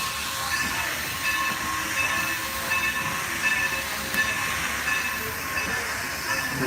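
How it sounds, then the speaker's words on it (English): A steady, dense rumble and hiss of a running steam locomotive, former Norfolk and Western 475, on the Strasburg Railroad, continuous and fairly loud throughout, with faint metallic tones above. "Our engine is the former Norfolk and Western 475"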